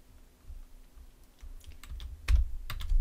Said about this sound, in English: So we type online meeting with, and then we'll add the invitee name, Andrew Main